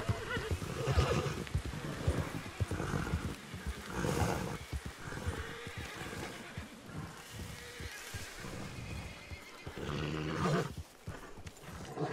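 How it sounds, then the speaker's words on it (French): Repeated horse neighs and whinnies ring out over a steady soundscape in the video game Red Dead Redemption 2, loud and close, with a few hoof clops mixed in. "C'est mon premier cheval."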